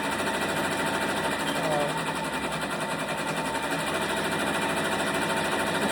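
An embroidery machine stitches an appliqué design, giving off a steady, fast mechanical whir and rapid needle chatter that runs unbroken for several seconds at close range.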